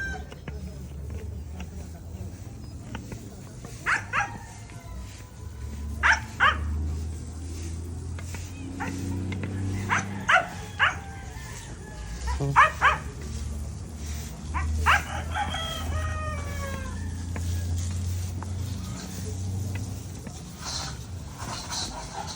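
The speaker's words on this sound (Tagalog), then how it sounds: "Meron din mga dogs. Yan, mga chicken." Dogs bark in scattered short bursts around a farmyard with chickens, close and fairly loud over a low background rumble, with a brief stretch of voice in between.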